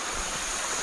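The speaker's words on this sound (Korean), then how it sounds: "이 물소리가 시원합니다." A small stream flows past a rural house plot in Geumsan-ri, Daega-myeon, Seongju, making a steady, continuous rushing hiss with no break and no voices.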